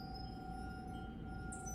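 Glass chandelier decorations clinking faintly in a breeze inside an old hotel ballroom in a video game, a soft steady bed of low room tone with thin sustained glassy tones and a brief brighter chime near the end.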